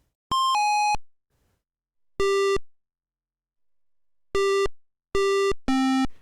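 Simon Says puzzle in the DOS computer game The Castle of Dr. Brain, a sequence of synthesized electronic tones at different pitches, some short pairs and some held notes, separated by gaps of silence.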